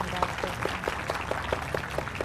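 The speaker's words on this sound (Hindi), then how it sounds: "आपने अपने फेवरेट के लिए तालियां बजानी है" School audience clapping for a favourite contestant, a loose, even run of claps at moderate volume with a regular rhythmic pulse, with faint voices in the room.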